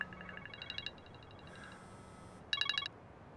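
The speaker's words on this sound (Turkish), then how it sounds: "Telefon çalıyor, dur." A telephone rings with electronic trilling bursts, a short repeated ring, a pause, then a louder final burst, fairly faint and heard alone without talking.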